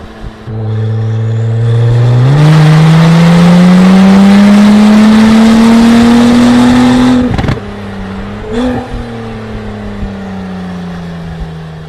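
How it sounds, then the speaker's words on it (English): Acura NSX V6 fitted with a titanium exhaust and Science of Speed sport downpipes revs hard. A loud, close engine note climbs steadily for several seconds, then cuts off, followed by a brief blip and a lower idle-like drone. "in combination with our titanium exhaust and the Science of Speed sport downpipes, sound department was taken care of."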